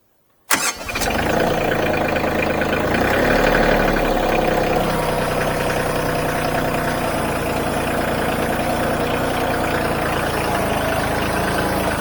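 A Bobcat CT2025 compact tractor engine cranks and catches after a moment of silence, then settles into a loud, steady diesel idle and run, close by with no talk.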